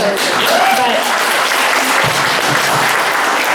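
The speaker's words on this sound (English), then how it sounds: "we owe him a great round of applause" Audience applause at a holiday party fundraiser in Loomis, a steady dense clapping that stays loud throughout, with some voices mixed into the crowd.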